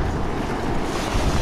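Strong wind buffets the microphone on the beach at Cape Point, Hatteras, a dense, loud, continuous roar mixed with surf, with no voices.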